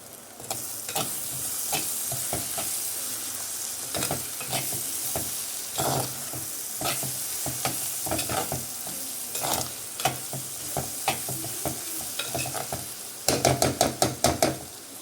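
Crushed garlic and vegetables frying in oil, a loud and steady sizzle close by, with repeated stirring scrapes and a quick run of spoon taps against the pan near the end.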